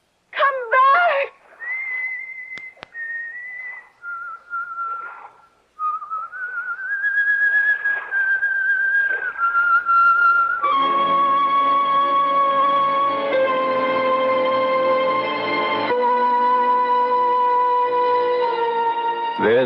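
A woman whistles a wavering, melodic tune in a radio drama, alone in a quiet room at first and then over a sustained organ-like musical chord, ending with a short rising note.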